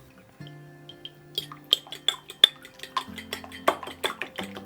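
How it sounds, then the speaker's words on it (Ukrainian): Rapid clinking of a utensil against a plate as a raw chicken egg is whisked, irregular light taps and scrapes, fairly close and moderately quiet. "В окрему тарілку я розбиваю куряче яйце та гарно його збовтаю."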